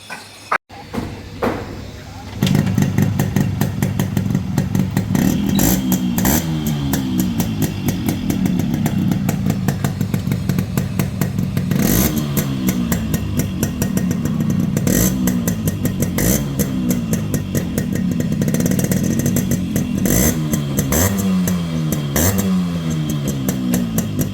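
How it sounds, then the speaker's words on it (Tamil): A restored Yamaha RX100 two-stroke motorcycle engine starts and runs, its popping exhaust beat steady and loud with repeated revs rising and falling throughout. "ஸோ இப்போ இந்த வண்டியோட பீட் சவுண்டு கேட்கலாம் வாங்க."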